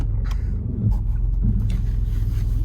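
A Saab 900 with fresh oil, air and fuel filters, running rough and spluttering as it drives a lap around a paddock, its engine a low, steady rumble that sits close and fairly loud.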